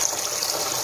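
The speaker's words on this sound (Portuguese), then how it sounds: "Amores, olha aqui, tá caindo água" Water pours steadily from a tap into a sink during home laundry washing, a continuous close hiss and splash with no voices.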